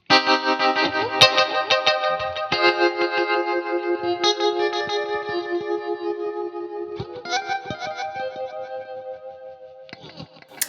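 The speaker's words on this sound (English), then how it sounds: "Really cool kind of ambient, sort of swirling, big, reverberant sound" Electric guitar played through an ambient reverb pedal rings out in sustained, layered chords with a swirling, wash-like tail, each new strum blooming over the last, loud and alone.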